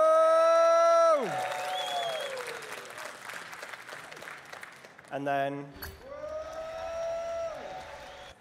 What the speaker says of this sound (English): do you want to like cheer and clap?